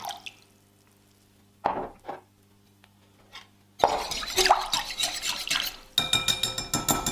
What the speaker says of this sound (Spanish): Empezamos deshaciendo la levadura